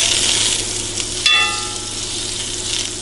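Butter and olive oil sizzle together in a frying pan as hash browns cook, a steady close crackle with a brief louder spit partway through.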